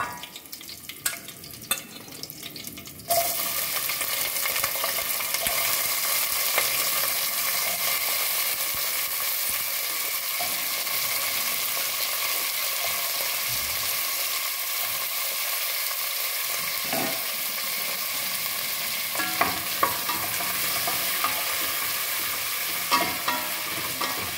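Slow-cooking vegetables for a traditional South Indian avial drop into a hot pan after a few quiet seconds, bringing on a steady, close sizzle with occasional stirring scrapes running through.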